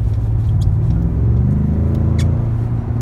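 A Ford F-150 pickup truck accelerates with a steady, loud low engine rumble and a rising drone, heard from close by, with no talking.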